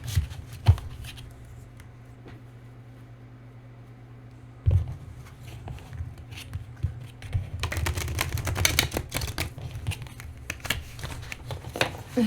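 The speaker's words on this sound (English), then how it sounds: "Let's see if I could shuffle these." Tarot cards riffle and slap together in quick, crackling bursts, close by, after a quiet stretch with a couple of knocks.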